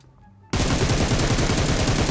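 Sustained automatic fire from an M7 rifle in PUBG Mobile, a rapid, loud, evenly spaced burst of shots starting abruptly after a short quiet moment and continuing without pause.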